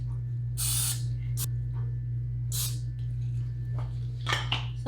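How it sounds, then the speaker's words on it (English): Short hissing bursts of cooking spray coating doughnut molds, two or three near, distinct sprays with a quiet pause between, over a steady low hum. "So first, I'm gonna spray my donut molds."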